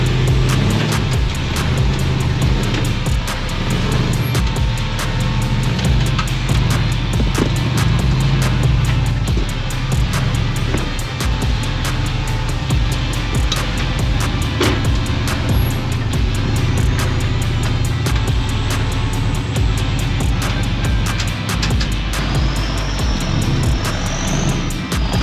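An off-road rock crawler grinds through a boulder garden in the Arizona pines, its engine droning low and steady with revs surging and falling as it hunts for traction. Occasional knocks ring out across the long, continuous run, and nobody speaks.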